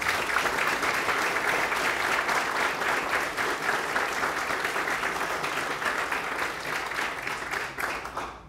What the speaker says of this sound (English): please join me in a round of applause for everybody